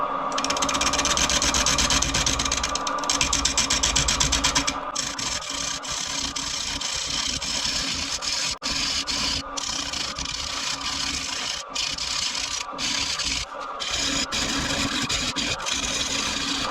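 Wood lathe turning a black walnut salad bowl at 518 RPM, a continuous close whirring drone broken by repeated sharp scraping bursts as the tool cuts the wood.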